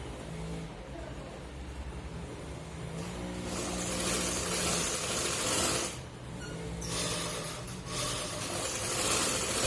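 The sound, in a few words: sewing machine stitching a jacket shoulder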